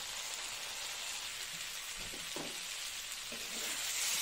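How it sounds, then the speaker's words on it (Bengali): Hyacinth beans, potato and green tomato sauté in a pan with a faint, steady sizzle, broken by a few soft stirring clinks near the middle and no voices. "অনেকটাই কষানো হয়ে গেছে, ছিম আলু আর তো কাঁচা টমেটো তো গলেই গেছে একদম"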